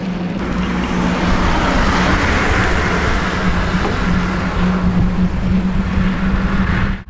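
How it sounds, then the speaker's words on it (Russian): Continuous roar of heavy road traffic on a Tatarstan highway, many cars and trucks passing close by in a steady, loud wash of engine and tyre noise with no pauses. "Машин немерено."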